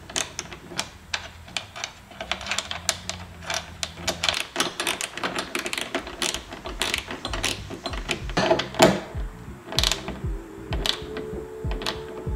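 A hood strut bolt on a 2015–2019 Ford Mustang is tightened with a hand tool, making a fast run of close, sharp ratcheting clicks and small metallic taps.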